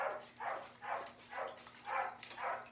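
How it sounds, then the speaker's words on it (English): A chocolate Labrador puppy barks six times in a steady rhythm, small high yaps at moderate distance over a faint steady hum, with no voices. "He has found his bark. He's a chocolate lab."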